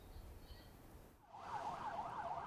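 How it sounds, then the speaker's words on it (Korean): Ambulance siren on an emergency call as it heads to a scene, starting after a brief lull and rising into a wavering, repeating wail at moderate distance over traffic rumble. "응급의료 신고를 받고 현장으로 출동하는 구급차"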